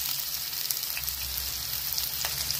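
Green chillies frying in a hot pan, giving a steady, loud sizzle with faint crackles throughout and no voices.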